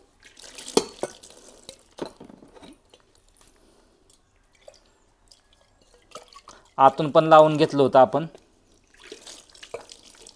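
Water splashes and drips as a copper pot is rinsed, with a person talking over and between the trickling sounds.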